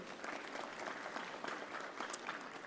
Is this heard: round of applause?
yes